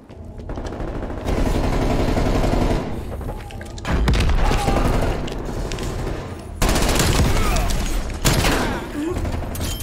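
Grenade blasts and rapid gunfire in Black Ops Cold War, with loud sustained bursts of automatic fire and booming impacts in several waves, mixed with a voice talking over the action.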